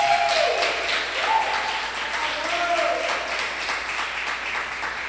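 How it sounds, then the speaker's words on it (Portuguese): Congregation applause inside an Ebenézer church service, a dense even patter of many hands at moderate loudness that gradually softens, with a voice faintly heard beneath it. "Queria que você aplaudisse ao Senhor pela vida dele."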